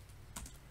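A few quick, quiet keystrokes on a computer keyboard, a short burst of soft clicks against a low background hum.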